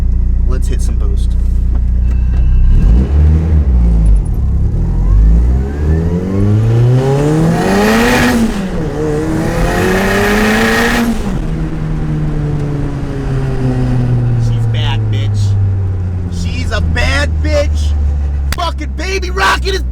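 An SR20-swapped Mazda Miata pulls hard under turbo boost, its engine note climbing through rising sweeps with gear changes, loud and close throughout, while a person talks excitedly over the roar.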